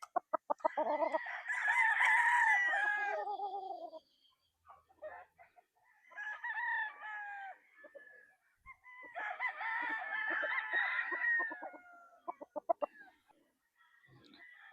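Gamefowl at a Philippine gamefarm call nearby, with roosters giving long, loud crows in several separate bouts, broken up by short pauses and rapid clucking.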